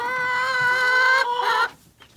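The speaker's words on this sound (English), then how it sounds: "My little baby chicks." Young backyard chickens cluck nearby in a garden, a run of loud, close clucks and squawks that cuts off into near quiet, with no speech.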